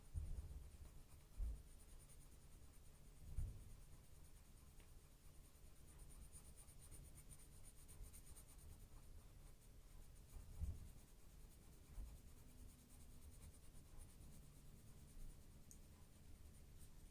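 Colored pencil shading a background on paper, a soft continuous scratchy writing texture with occasional louder strokes and pencil taps, close and quiet with no talking.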